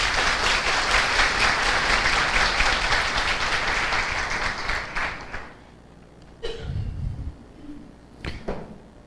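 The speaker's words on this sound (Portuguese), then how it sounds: "nossa salva de palmas para todos vocês aí" Audience applause fills a spiritist lecture hall, steady and dense for about five seconds, then fades to quiet with a few scattered, brief claps and low sounds near the end.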